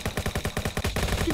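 Rapid automatic gunfire in the Roblox game Jailbreak, a steady stream of close, loud shots repeating about ten times a second without a break for over a second.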